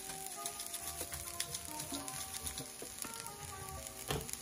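Salmon cake mixture with lemon pepper and seasonings toasting in a pan, giving a steady close sizzle and frying crackle with light stirring taps throughout, no talking.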